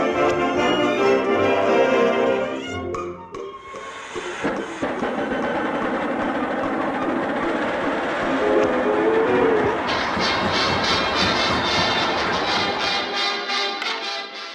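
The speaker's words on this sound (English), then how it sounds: "I wonder where that train's taking her anyway." A cartoon train runs on rails in a steady, loud rumble of wheels and carriage clatter that continues throughout, with a brief break partway through, from a Halloween-themed animated short.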